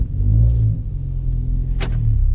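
Ford Focus ST with an ACT heavy duty clutch driving from the cabin, a deep, steady engine and road rumble with a slight swell early on and a brief higher whoosh near the end.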